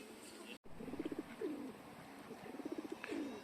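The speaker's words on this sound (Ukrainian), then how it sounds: "На голубів не дивіться. Їх і так багато." Soft pigeon coos repeat twice, low and throaty rolling calls over an outdoor background hum in a quiet park in Lviv, with a brief dropout near the start.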